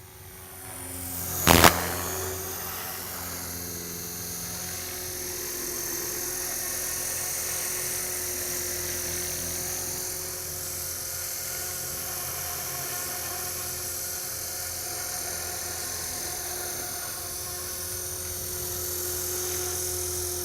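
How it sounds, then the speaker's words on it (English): A helicopter hovering and performing aerobatics, its rotor and engine droning steadily, with a sharp clack near the start, then a continuous whining hum that rises slightly and holds. "the helicopter will hold the rotor RPM"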